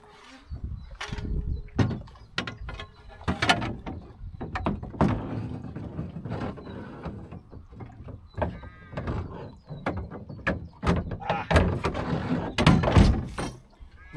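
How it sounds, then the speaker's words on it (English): The rudder of a Drascombe Lugger sailing boat knocks against the boat's floor in a series of irregular hollow thumps and clatters, heard close up in rough, windy weather. "Rudder's hitting the floor"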